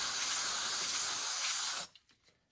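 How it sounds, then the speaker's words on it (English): Gumout cleaner sprayed from an aerosol can onto leaking tube edges of an aluminum radiator: a steady, loud, close hiss lasting nearly two seconds, then cutting off abruptly into quiet. "So I'm going to clean it with my gum out spray."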